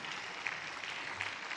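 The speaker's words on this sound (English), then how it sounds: "please clap" Steady applause from a crowd at the Martin Luther Christian University convocation ceremony, heard as a continuous, moderately loud wash of clapping throughout the short stretch.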